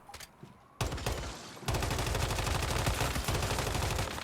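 An M416 rifle fires in the video game Once Human: a couple of early shots, then a short burst, then sustained rapid automatic fire, loud and close, with dense crackling reports.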